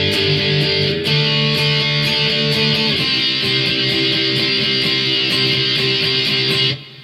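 Distorted electric guitar plays the full intro of a song from the start, a continuous loud riff with steady rhythmic strums and a chord change partway through, alone with no talk, ending abruptly.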